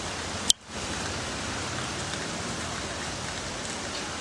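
Steady daytime rain pours down in a dense, even wash of hissing noise, close and continuous after a brief sharp click at the start, with no voices.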